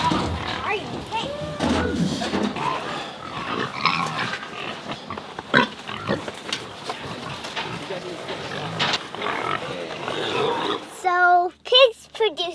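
Pigs oinking and squealing as they are rounded up into a trailer on a small hog farm, loud close grunts under frequent talking, with clattering bursts near the end.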